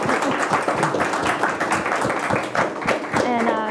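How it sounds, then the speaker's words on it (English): Audience applause at a university alumni innovation talk, a brisk round of clapping from the room with voices mixed in throughout. "Can we just get a round of applause for Joe?"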